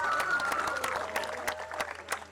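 An audience at a live band concert applauds a performer, steady clapping from a crowd with sharp individual claps standing out over a faint sustained musical tone.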